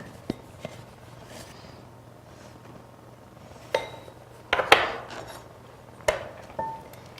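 Flour and salt being stirred in a bowl while making Navajo fry bread, heard as a few scattered scrapes and clinks of a utensil against the bowl over a quiet background.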